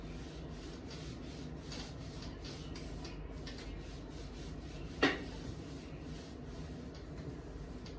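Writing is rubbed off a board during a maths lesson, a soft, faint scraping that runs under a quiet room with one sharp knock partway through.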